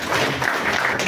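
An audience at a science talk applauds the questioners who came up on stage, loud, continuous clapping close by with a dense, even texture from start to finish.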